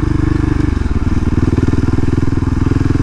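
A KTM SMC R motorcycle engine thrums loud and close while riding, with a steady rapid firing pulse that rises briefly and holds, with no voices over it.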